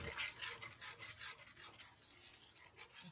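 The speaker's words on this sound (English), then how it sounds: "And I'm just going to stir that up like so." Gravy mix being stirred in a pot, a steady, faint scraping and swishing that continues without pause.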